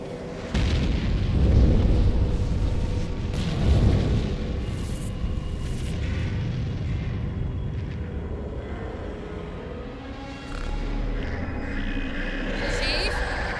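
A missile launches and explodes in Halo 4, opening with heavy rumbling booms that settle into a sustained roar, while voices talk over it.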